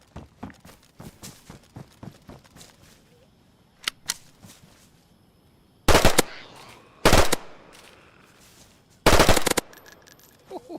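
A PPSh submachine gun fires in a video game. Bursts of rapid automatic shots ring out loud and close, separated by quieter footsteps and small clicks. A voice is faintly present.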